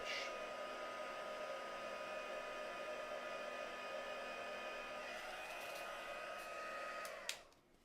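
A hair dryer blows steadily on craft paste, a constant close whooshing hiss with a faint whine that holds for several seconds and then clicks off near the end.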